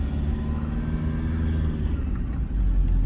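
A 2005 Toyota Vigo cab pickup with a 2.5-litre engine rumbles steadily on a test drive, a low, continuous drone heard from inside that swells slightly near the end.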